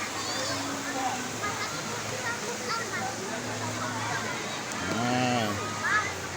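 River water flows from the Nepen spring at Umbul Nepen in Boyolali, giving a steady, even rush throughout, with faint voices of children playing in it.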